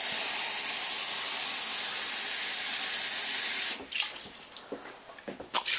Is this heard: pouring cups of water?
yes